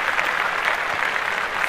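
Steady applause from a small group, even and continuous with no voices over it, in a podcast studio setting.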